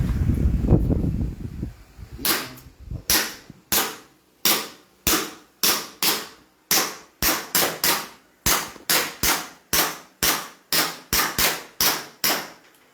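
An SRC CZ Shadow 2 airsoft pistol fires at a target indoors, a steady run of about twenty sharp, close snapping shots spaced roughly half a second apart, each with a short decay, following a brief low rumble of handling.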